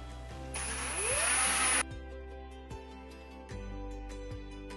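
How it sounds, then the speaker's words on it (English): A power drill drives screws into the face frame of a kitchen cabinet for a pull-out pot and pan organizer, one sustained loud burst of whirring near the start, then quieter repeated clicks and knocks of the workpiece. "I'm also gonna put a couple screws into the face frame to kind of transfer some of that weight into the face frame."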